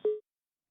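A single short telephone tone follows a dropped call-in line on a live news broadcast, a brief clean pitched beep standing alone and then cutting to silence.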